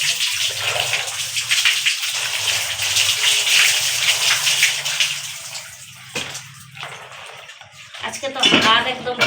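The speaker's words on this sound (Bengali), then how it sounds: "লঙ্কার বোটা ছাড়িয়ে নিয়েছি, এখন ধুয়ে নিব" Green chillies with their stems removed are washed under water, a steady gush and splash close by that briefly thins out before surging again, with a voice heard over it near the end.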